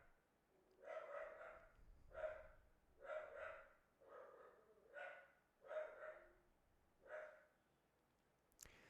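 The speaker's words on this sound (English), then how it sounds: "the dog that is aggressively barking in the background" A small dog barks aggressively in the background, about seven muffled, breathy barks in an uneven rhythm, fairly distant and moderately loud, with no talking over it.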